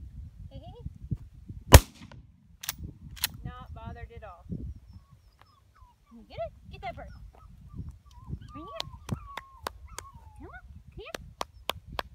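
Several sharp shots ring out during gun-breaking training for a seven-week-old puppy, spaced across the clip and fairly distant, with people talking and the puppy yelping in between.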